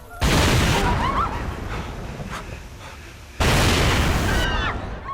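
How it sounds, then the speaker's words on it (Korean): A chain of explosions as a sound effect, booming in two loud broadband bursts separated by a quieter rumbling stretch, with crackling debris throughout. "그렇게 시작된 연쇄 폭발."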